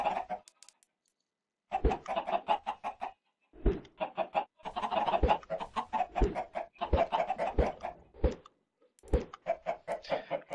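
Chickens cluck in a Minecraft game world, bursts of short, repeated clucks in quick clusters separated by brief silent gaps, fairly close and loud, with no talking.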